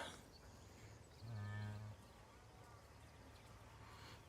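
Bulls and cows bellow during breeding season on a farm, one loud, sustained moo rising over the steady outdoor background, with quieter lowing before and after.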